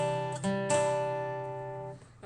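A guitar sounds the third part of a song, a few plucked notes ringing out together into a sustained chord that slowly decays, quiet and close with no talking.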